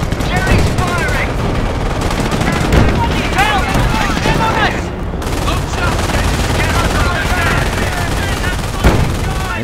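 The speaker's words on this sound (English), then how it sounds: "Jerry's firing!" Dense German gunfire in a Company of Heroes battle, with sustained rattling volleys and machine-gun bursts filling the whole stretch, loud and close, while voices shout over the din.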